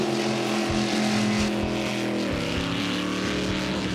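A race boat engine with turbos roars and accelerates, a loud, dense, continuous drone whose pitch climbs and shifts, heard close with no voices.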